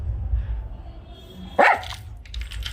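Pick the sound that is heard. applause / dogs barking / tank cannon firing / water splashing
dogs barking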